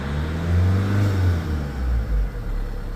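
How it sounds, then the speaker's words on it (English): A 2014 Vauxhall Insignia 2.0 CDTI diesel engine stuck in limp mode roars loudly and steadily nearby, a deep low rumble that swells and dips slightly without stopping. "you can hear the sound of the engine as well. So loud."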